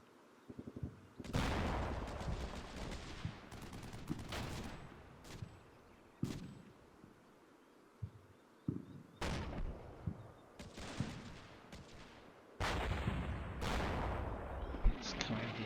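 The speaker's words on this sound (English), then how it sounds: "I still think that those are probably 120mm mortars." Mortar shells, probably 120mm, explode in the Combat Mission Shock Force 2 war game: several loud, heavy blasts burst at irregular intervals, some leaving short rumbling tails, with gunfire-like cracks mixed between them.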